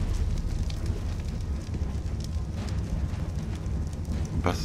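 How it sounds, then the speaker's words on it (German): A fire burns steadily in the video game ARK, a dense, constant crackling roar with a faint hiss, loud and close throughout, and a brief sharper burst near the end. "Was ist das für Feuer?"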